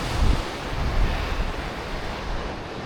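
Massive waves crash against rocks on a Mediterranean coast, a broad roaring wash of surf with heavy thumps early on, mixed with wind noise and no voices.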